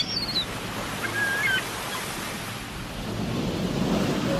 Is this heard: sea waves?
yes